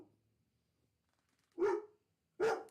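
A dog barks twice from close by, two loud separate woofs about a second apart after a quiet stretch, set off by a FedEx delivery truck arriving outside.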